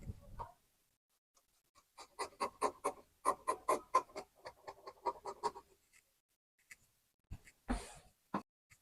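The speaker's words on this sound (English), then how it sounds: "So now I'll start cutting" Scissors snip through skirt fabric in a quick series of close, crisp cuts, a pause, then a couple more cuts near the end, with no talking.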